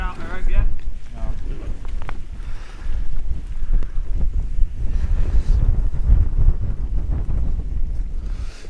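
Wind gusts buffet a tent pitched at a sub-zero wild camp, a loud, continuous rumbling roar with flapping fabric throughout, and a voice speaks over it.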